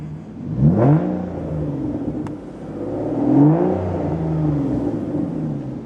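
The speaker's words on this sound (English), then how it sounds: "It can be beaten by the sound quality of the engine." A 2010 Aston Martin DBS Volante Carbon Edition engine revs twice, each rev rising and then falling back to a steady idle. The engine sounds close and full, with nobody speaking.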